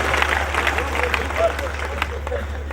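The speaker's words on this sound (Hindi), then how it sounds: "मिलके तालियां बजाइए।" Audience at a Hindi poetry recital claps together, a moderate scattering of hand claps over a low steady hum, with some crowd murmur mixed in.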